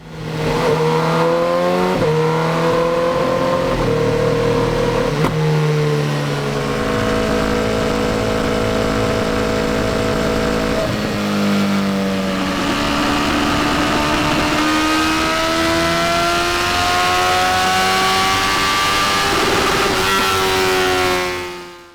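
A 2015 BMW S1000R motorcycle engine on a dyno roars loud and close, its pitch repeatedly sweeping upward through sustained revving runs with brief drops between them.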